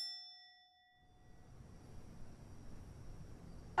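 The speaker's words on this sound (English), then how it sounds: "Oh, here goes the bell." A small service bell at a video game snack bar gives one bright, ringing ding that fades slowly into quiet background noise, followed by a short, sharp clang right at the end.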